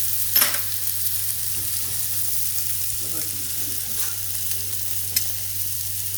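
Boiled potatoes and green chilies frying in a pan, a soft steady hiss of oil with a few light stirring scrapes and taps, fairly quiet and without talking.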